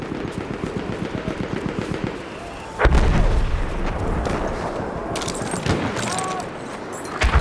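Rapid machine gun bursts rattle through a Battlefield 1 Conquest battle at Cape Helles, dense repeated firing with heavy booms and explosions cutting in, loud and continuous under a chaotic battlefield din.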